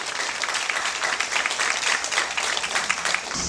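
Sustained applause from a crowd at the closing ceremony of a youth softball-style rubber-ball baseball tournament final in Kumamoto, Japan, honoring both teams; steady dense clapping throughout, fairly loud, with no talk over it.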